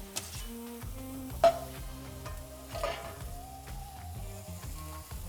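Green peppers sautéing in coconut oil, a soft sizzle under background music, with a couple of sharp clacks of a utensil against the pan.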